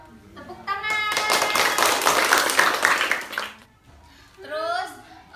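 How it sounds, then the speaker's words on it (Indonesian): Elementary school children clap together after a story is read in class, a burst of quick, dense claps lasting a few seconds between stretches of a teacher's voice before and after. "Tepuk tangan."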